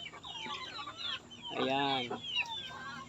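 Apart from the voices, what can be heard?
pullet chickens clucking while eating azolla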